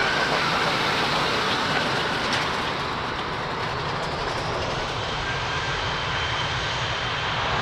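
An airliner powers down the runway on its takeoff roll at Lisbon Airport, a loud continuous jet-engine roar held steady and dense for the whole stretch with no pauses.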